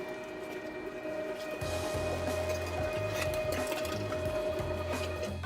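An electric meat grinder runs steadily through a fine grind of a pork sausage mixture, a continuous mechanical hum with a rhythmic low churning that starts up loud partway in and keeps going close to the microphone, with no talking.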